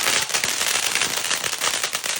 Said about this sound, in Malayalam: ബാറ്റും ബോളും പടക്കാണ്